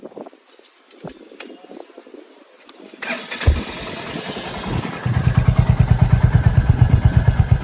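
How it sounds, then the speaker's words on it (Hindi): A Royal Enfield Hunter 350 motorcycle with stock exhaust: faint clicks and rustles, then the engine starts and settles into a loud, close, even thumping idle beat from the stock exhaust. "दोस्तों फर्स्ट स्टॉक एग्जॉस्ट का साउंड सुनते हैं।"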